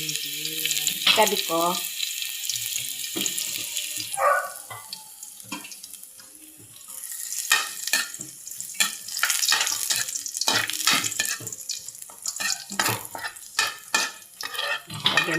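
Garlic frying in a pan for a kangkong and mushroom dish, stirred with a utensil, producing steady sizzling with scraping strokes that quicken and grow louder toward the end, with brief speech in between.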